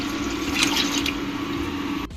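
Previously boiled water is poured into a cooking pot for Kerala-style pidi and chicken curry, giving a steady, close splashing pour for about two seconds.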